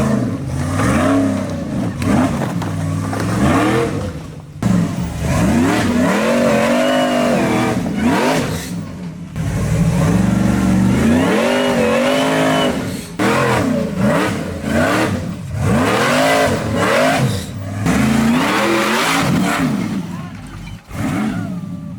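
A rock bouncer off-road buggy revs hard through its new exhaust, 3.5-inch merge collector and Y merge into a full dump, the engine rising and falling in repeated loud bursts with brief pauses between pulls, some talk faintly mixed in.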